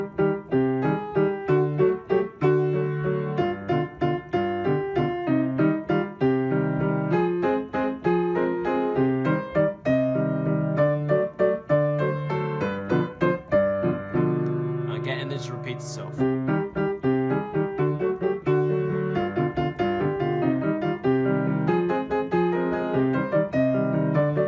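Piano plays a steady melodic passage with chords, moderately loud and continuous, with a brief higher flourish midway.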